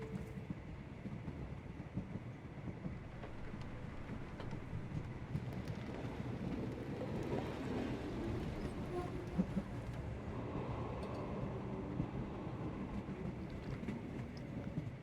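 A night train travels in the Sherlock Holmes: The Awakened video game, giving a steady, continuous rumble with windy noise and faint rattling throughout, with no talk.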